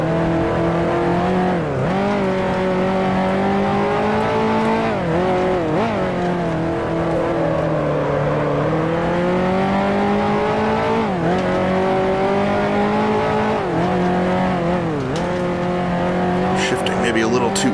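A 1955 Ferrari Grand Prix car engine in the racing game Grand Prix Legends drones loudly and continuously, its pitch dipping and climbing through gear changes and corners, with a person talking over it.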